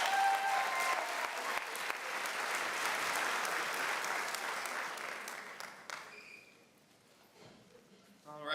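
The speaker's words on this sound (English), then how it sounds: "One more round of applause for the incomparable." Sustained applause from an audience at a school board of education meeting, steady and dense for about six seconds before thinning out into scattered claps and a quieter room.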